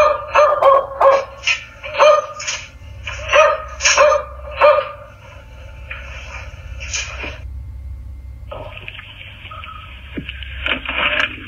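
A dog barks repeatedly in quick bursts, loud and close, then the barking fades into lower background noise and distant yips over a steady rumble.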